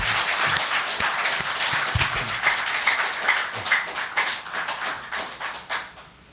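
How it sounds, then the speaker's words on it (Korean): Congregation at a New Year's Eve church service applauding, a loud, dense burst of many hands clapping that thins into scattered claps and fades at the end. "2018년도를 허락하신 하나님께 영광의 박수를 돌려보냅니다."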